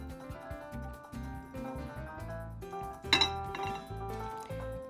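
Dishes, pots and cutlery clink softly while a ground turkey teriyaki bowl is plated, with one sharper ringing clink partway through over low kitchen tones.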